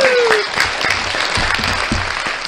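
Sustained applause from a crowd at a live stage show, steady and fairly loud throughout with a short rising tone at the start.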